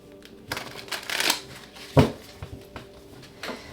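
Tarot cards are shuffled in short bursts of riffling and slapping, with soft taps and a sharper knock in between, nearby and fairly quiet.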